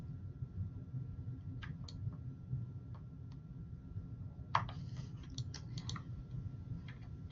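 A computer mouse gives a few faint, scattered clicks near the middle, then a quick cluster of sharper clicks, all over a low steady hum in a quiet room.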